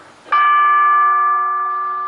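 A gong chime comes through an Ahuja horn speaker just ahead of a national anthem, struck once with a sharp attack and then a clear, steady ringing tone that fades only slightly over two seconds.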